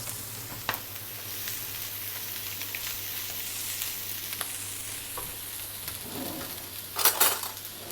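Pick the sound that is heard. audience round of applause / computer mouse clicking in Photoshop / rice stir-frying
rice stir-frying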